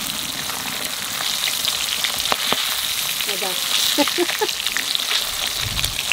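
Fish frying in plenty of oil, a steady dense crackling sizzle with scattered sharp pops, fairly close and continuous throughout.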